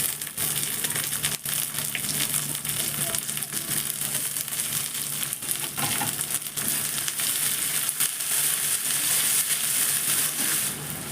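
Leaves added to a hot pan with ground ginger and garlic for a Manipuri dish, sizzling and crackling steadily and loudly throughout, close up with no talking.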